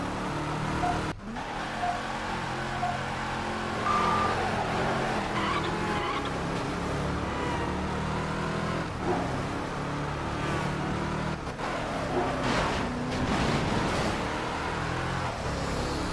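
Cars rush through traffic in the racing video game Midnight Club 3: DUB Edition Remix on a Detroit race, with continuous engine roar, repeated tire squeals and skids, loud and dense throughout.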